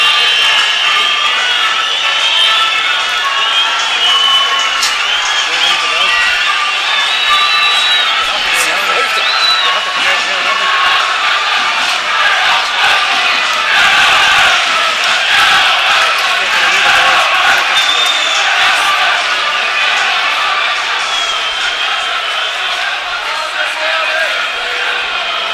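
Busy football stadium crowd building up before a Europa League match, a continuous loud hubbub of chatter with occasional whistles and shouts, no single voice standing out.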